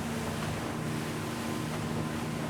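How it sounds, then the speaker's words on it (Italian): A Jeanneau DB/43 motorboat's fibreglass-and-resin hull runs over waves, giving a steady, dense rush of water and wind roar that stays loud and even throughout, with no voices. "sentite la morbidezza che ha questo scafo sulle onde"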